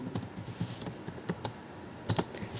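C code is typed on a computer keyboard in quick, uneven bursts of close key clicks, with no voice over them.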